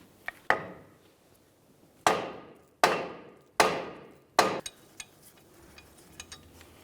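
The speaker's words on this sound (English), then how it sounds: "We'll continue on with a hammer. We're going to try to break the rotor free from the wheel bearing located behind it." A hammer strikes a brake rotor on a Ford Transit Connect, trying to free it from the wheel bearing behind it: five loud, ringing metallic blows at uneven intervals, then a few lighter taps.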